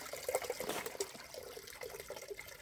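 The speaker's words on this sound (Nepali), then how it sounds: "यो पानी यो सफा गरी अझै ठुलो आउँछ" Water gushing out of an old drinking-water tank being cleaned, a steady splashing flow with irregular bursts, fairly close, no talking.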